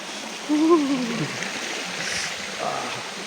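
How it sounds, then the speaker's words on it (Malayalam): A waterfall in an estate below Pannimala hill pours in the rain as a constant broad rushing hiss, with a brief voice speaking over it near the start. "ഹായ്, സൂപ്പർ വെള്ളച്ചാട്ടം."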